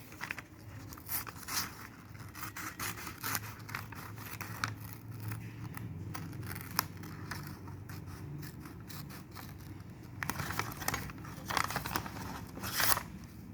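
Repeated crisp snips and rustling of paper being cut with scissors, steady irregular rhythm close up, with a few louder crunchy cuts near the end; no talking.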